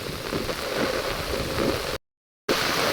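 Steady rain pours down with a dense, even hiss, broken by a brief moment of silence before it resumes just as heavy.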